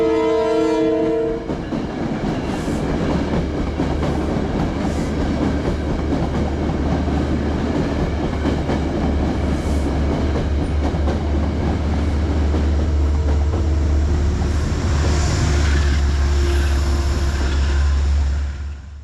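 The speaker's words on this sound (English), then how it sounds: "Here's train 1875 headed to South Norwalk" A passenger train heading to South Norwalk rumbles past close by, its heavy low drone steady throughout, with wheel clatter and a brief horn blast near the end.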